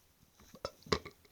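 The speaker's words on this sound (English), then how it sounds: "Burping on mic and shit." A short, close burp picked up on a microphone during a UFC fight recap, with a couple of brief guttural bursts over a quiet background and no talk.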